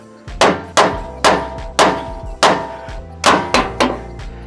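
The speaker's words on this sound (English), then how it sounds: "we're going to give it a good couple of smacks with a big hammer" A big hammer smacks a steering box on a 2003 Ford F-350 to knock it loose: eight sharp, ringing metallic blows at a fairly steady rhythm, close and loud, with no talking.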